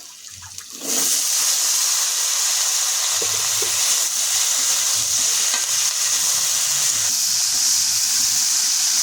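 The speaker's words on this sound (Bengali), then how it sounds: "পেঁয়াজ কুচি দেব, এবারে সব সবজি দিয়ে একসঙ্গে ভেজে নেব।" Mixed vegetables with chopped onion, chilli and five-spice frying together in a pan for a crab and mixed-vegetable curry, a loud steady sizzle breaking in after a quiet second and continuing throughout with occasional stirring scrapes, no talking.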